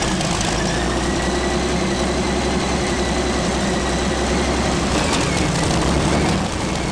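A 58-litre tractor-pulling engine idles steadily indoors with a deep, constant low rumble and vibration, loud and close, with no other sounds standing out.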